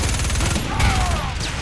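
Rifle fire in a multiplayer shooter video game, a steady stream of rapid, loud shots packed into a dense continuous burst with little gap between reports.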